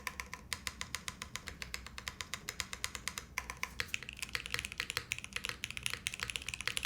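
Fast, steady typing on a plateless, PCB-mounted leaf-spring 60% mechanical keyboard, a dense run of crisp close keystrokes with no one talking.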